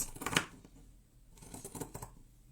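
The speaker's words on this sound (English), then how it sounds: "just clip your corners, okay, just normally with normal scissors" Ordinary scissors clip the corners of fabric for a vintage-style crochet quilt. A few quiet, close snips and rustles come in short bursts with pauses between them, and no one talks.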